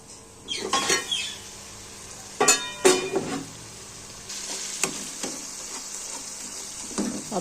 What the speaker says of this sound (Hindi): ये देखें हमारा मसाला बहुत अच्छे तरीके से भुना जा रहा है।